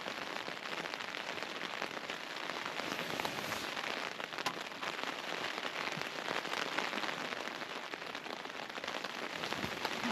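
Steady rain falls outside at a campsite, a dense, even patter on surfaces that continues unbroken throughout, fairly soft and close with no voices.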